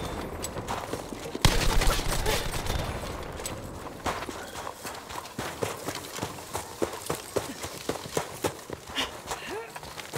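Rapid gunfire from a Browning machine gun fired through stone walls in Battlefield V, a dense run of loud repeated shots with footsteps and game noise, followed by sparser bursts.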